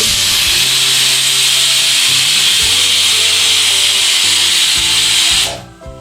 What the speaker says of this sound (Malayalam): അപ്പോൾ ആ കുക്കറിൽ നിന്ന് വിസിൽ വന്നിട്ടുണ്ട്.